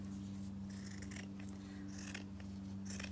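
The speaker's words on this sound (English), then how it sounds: "So we'll continue to cut this all the way until almost the very end" Scissors snipping through felt while shaping a handmade felt rose, a few soft crisp cuts over a steady low hum, close and fairly quiet.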